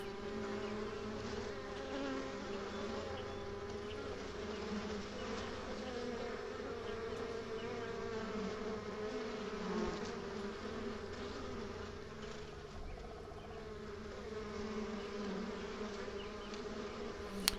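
Honey bees buzzing around a hive as they return after a solar eclipse, a faint steady swarm drone with many overlapping wingbeats and no talk.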